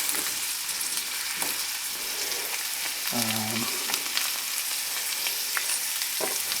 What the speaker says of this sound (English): once you've added your onions to the frying pan